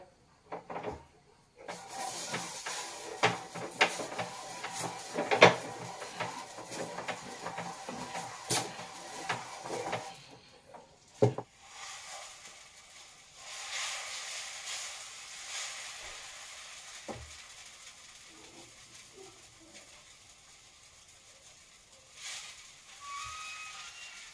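Onion rubbed across a hot dosa pan, giving a steady, close sizzling hiss with scattered crackles and scraping clicks that thins out partway through and returns more faintly.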